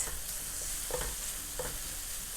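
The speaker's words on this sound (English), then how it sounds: "keep stir frying until you cannot see any more kimchi juice or soy sauce or anything." Steady soft sizzling of kimchi fried rice stir frying over medium-high heat in a hot pan, with a few scraping stirs of a utensil, fairly quiet and close, no voices.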